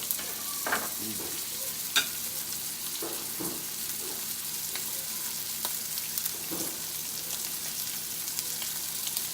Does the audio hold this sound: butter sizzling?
yes